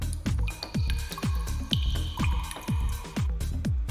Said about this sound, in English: We hear a little water drop effect in the background.